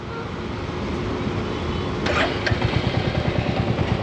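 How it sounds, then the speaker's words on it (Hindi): A motorcycle engine starts and settles into a steady, rhythmic idle, close and moderately loud, after a stretch of low mechanical hum. "तो देखिए दोस्तों, बाइक स्टार्ट करी"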